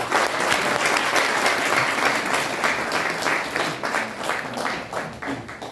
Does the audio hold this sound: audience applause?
yes